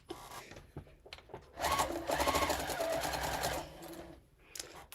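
Close sewing machine running in a rapid whirring burst of stitching for about two seconds, with softer clicks and handling sounds before and after.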